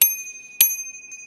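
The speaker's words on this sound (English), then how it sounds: "really good place just to put my bell" A bicycle bell mounted on the handlebars of a Decathlon Riverside bike rings twice, two bright close dings about half a second apart, each leaving a sustained ringing tone that slowly fades.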